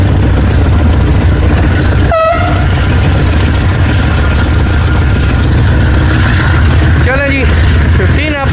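Allama Iqbal Express passenger train in Pakistan passing close by on the track, a steady loud rumble of wheels and carriages, with horn-like tonal bursts near the start and again toward the end.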